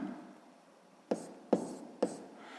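Pen on paper while working a sixth-grade math exercise, with a faint scratchy stretch followed by three sharp taps or strokes spaced about half a second apart, close and quiet, with no talk.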